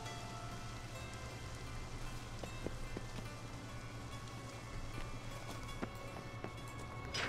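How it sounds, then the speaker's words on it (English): Steady rain patters in The Witcher 3 under a low constant hum, with a few soft thumps and occasional light clip-clop steps in the background. "Seems like it's raining."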